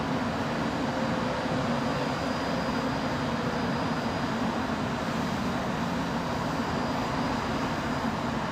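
An airliner taxis at London Heathrow Airport near runway 27L, its jet engines producing a steady, loud, broadband roar and whine that stays constant throughout.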